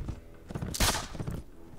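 A single gunshot fired in Mount & Blade: With Fire and Sword, a sharp, loud, short blast near the middle, set among muffled thuds of battle.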